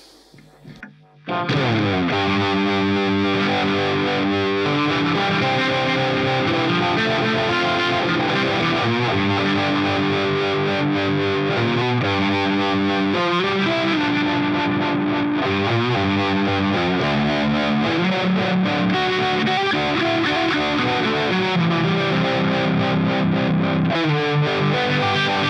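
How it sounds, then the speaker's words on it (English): Electric guitar played through a Boss ME-80 multi-effects pedal's Uni-V modulation effect, a sustained, swirling distorted tone with continuous chords and melodic lines, loud and steady throughout with no talking. "here's the next one where I just used the UniV mod and it's a really cool effect"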